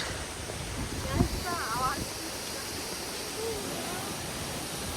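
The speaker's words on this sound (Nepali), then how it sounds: "स्यागे झरना भाइरल ठाउँ" Syange waterfall in Lamjung, a faint steady rushing hiss of falling water in the background while people talk and call out nearby.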